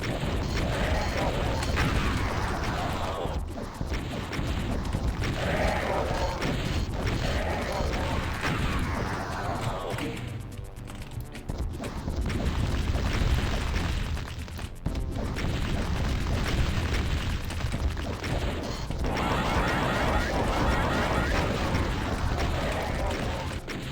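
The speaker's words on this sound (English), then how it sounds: "I have plasma and rockets. Rockets is probably infinitely better here." Rocket launcher explosions in the video game Doom, a run of loud, booming blasts and crashes that come one after another with only short gaps between them.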